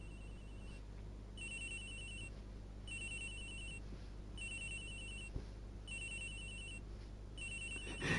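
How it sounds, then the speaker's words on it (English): In the video game Ace Attorney Investigations, a phone trills in regular on-off bursts of a bright electronic ringtone, five or six cycles at an even pace, fairly quiet and heard alone. "This is phone. It's ringing from somewhere, sir."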